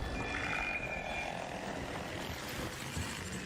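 A Bombardier enemy machine in Arc Raiders flies overhead, giving a low, steady propeller-like drone that holds faintly for a few seconds and has no talk over it.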